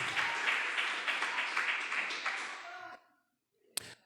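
A church congregation claps for the Lord during a sermon, a dense burst of applause lasting about three seconds before cutting off, followed by silence and one sharp tap.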